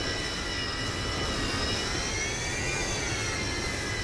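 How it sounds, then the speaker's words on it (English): A Ryanair jet taxiing at an airport in Microsoft Flight Simulator 2020, a steady whining turbine drone with a constant high engine tone holding through the whole stretch, moderately loud and without voices. "There is something taxiing somewhere. There. Ryanair in the background."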